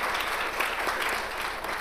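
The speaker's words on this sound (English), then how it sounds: "Big round of applause for our creative arts captains for 2024." A crowd at a school commencement service applauds creative arts captains. The clapping is steady and fairly faint, heard from a distance, and carries on evenly for a couple of seconds with a few voices faintly under it.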